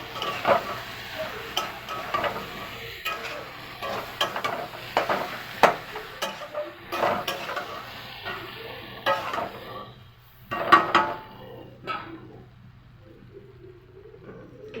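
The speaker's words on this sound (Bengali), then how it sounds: "এবার আমি এর মধ্যে ঢেলে দেবো। দিয়ে একটু নাড়াচাড়া করে নেবো।" Ghugni is stirred in a pan, with repeated scraping strokes and clatters of a spoon against the metal over a faint sizzle, in uneven bursts with short pauses and no voices.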